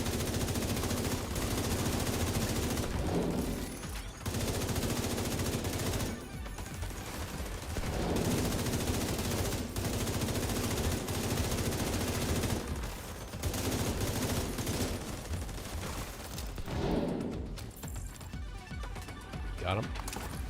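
Shock-bullet gunfire in the video game Warlords of New York, with rapid sustained automatic bursts broken by short pauses, loud and continuous, and a voice talking over it.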